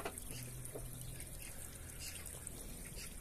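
A garden pond fountain splashes and trickles steadily on an allotment plot, a continuous close water patter with no break and no voices.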